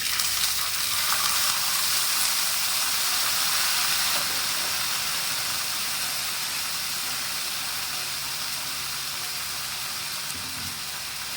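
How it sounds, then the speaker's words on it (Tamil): Hot pan hissing and sizzling strongly after soaked tamarind water goes in for a home-style tamarind curry, a loud steamy wash that gradually settles and softens over several seconds, close up with no talking. "இப்போ வந்து இந்த புளி ஊற வச்சதை கொஞ்சமாக ஊற்றிக்கலாம்"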